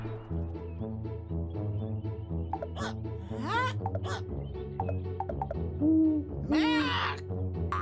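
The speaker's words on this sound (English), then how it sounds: "Owl!" Cartoon owl hooting in a toddler animal-words show, heard as a couple of short calls over steady background music.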